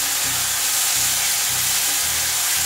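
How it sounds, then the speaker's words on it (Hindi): Tomato puree hitting sautéed capsicum and onion in a hot pan for homemade Manchurian, a loud, steady sizzling hiss with a faint repeating low thump underneath. "अब हम इसमें टमाटो प्यूरी डालेंगे"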